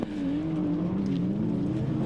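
Small racing cars being pushed hard around Mallory Park during a Supernationals race, engines holding a steady, buzzing drone at a distance with a slight rise and fall in pitch, no talk.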